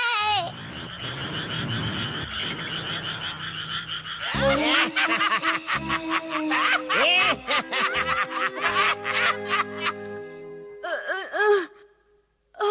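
Cartoon frogs croaking in a Hindi-dubbed Ninja Hattori movie, a busy run of loud, bouncy, pitch-bending croaks and chuckle-like calls in quick bursts, with a short silence near the end.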